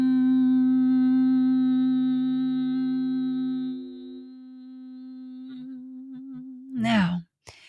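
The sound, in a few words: person humming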